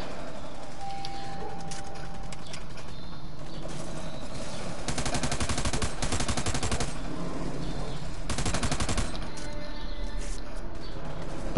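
Gunfire from a PS4 online shooter game, with rapid bursts of automatic fire clustered in the middle and again near the end over a steady, busy game background; no talking.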